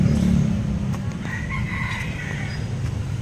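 A barako gamecock rooster crows once, loud and close, over steady low background rumble from its surroundings.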